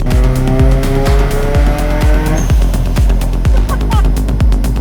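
A rebuilt Mazda RX-7 rotary engine revving on a tuning pull in fourth gear, loud and close, its pitch climbing in a series of rhythmic pulses as the revs rise.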